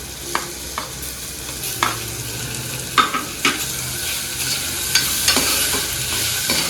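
Chicken with turmeric powder frying in a pan, a steady loud sizzle broken by sharp scrapes and knocks of a spoon stirring at irregular intervals, with no talking.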